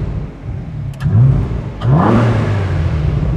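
A Renault Clio V6 engine revs hard twice in quick succession, each blip rising sharply and falling back to a rough, loud idle, heard up close with no talking.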